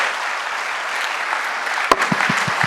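A crowd at a family achievers' reunion training event claps for uplines and downlines in steady, sustained applause. A sharp knock near the end is followed by a few low thumps.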